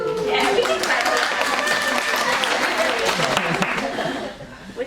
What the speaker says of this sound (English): Yeah, we can clap for